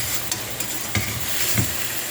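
French toast made with milk and eggs frying in a pan: a steady, fairly soft sizzle with a few light taps and stirring clicks scattered through it.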